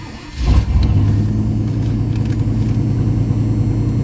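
A 1980 SE car engine cranks and fires, jumping to a loud, steady rev and a rough idle with a deep low rumble held close by.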